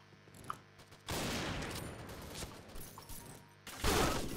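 Bursts of rapid gunfire in the Thai PointBlank shooter game, with two sustained volleys of automatic fire broken by a short lull, plus a few isolated faint pops before the first burst.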